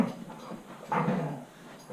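A dog gives a short muffled bark or yelp indoors, close by and brief.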